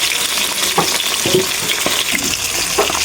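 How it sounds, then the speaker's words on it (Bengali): Tilapia fish frying in hot oil in a wok, a steady loud sizzle with crackling spatters running throughout, close up and with no voices. "মাছটাকে আমি এক এক করে দিয়ে দিলাম"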